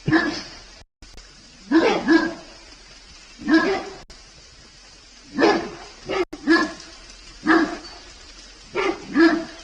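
Dogs outdoors at night on a rural property, barking in repeated bursts of two or three woofs spaced a couple of seconds apart, fairly close and clear with quiet between.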